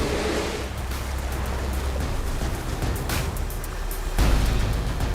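Ocean waves surge onto a shallow beach where orcas practise stranding themselves, a steady broadband wash of surf with a louder swell rising near the end, no voices.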